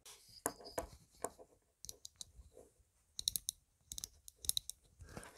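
Close clicking of the adjustment wheel on a Brinyte T28 Artemis flashlight, a tightly sprung wheel turned in short bursts of sharp, crisp ticks held near the microphone.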